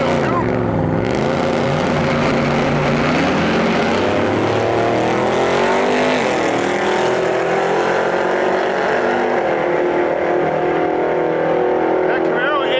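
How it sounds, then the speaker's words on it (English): A third-generation Chevrolet Camaro and a three-window coupe drag race at Gainesville Raceway during Sick Week, their engines roaring loud and continuous throughout, with a voice talking over the noise. "3rd gen Camaro in our lane. Far side, we got a 3-window coupe."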